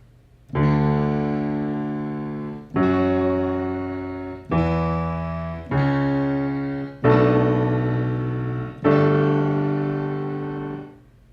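Six sustained keyboard notes or chords struck one after another, each ringing out with a slightly odd, warbling, synthetic tone, played alone.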